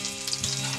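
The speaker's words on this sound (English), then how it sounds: "The sizzle sounds good." Partridge fillets sizzle and crackle in hot oil in a frying pan, a brief, steady hiss close by with no talking.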